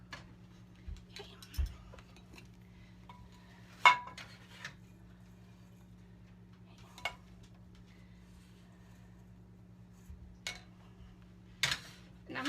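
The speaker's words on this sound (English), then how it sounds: "cut myself a piece of this meat" Cutlery on a plate while a piece of meat topped with herb butter is cut at home, giving sparse clinks and scrapes scattered over a steady low hum, with a few sharper knocks standing out.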